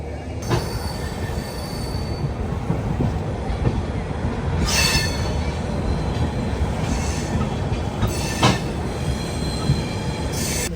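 The Kashi Vishwanath Express passenger train from Banaras to New Delhi rumbles steadily along the rails through Uttar Pradesh, with metallic wheel squeals rising at intervals over the continuous rolling noise.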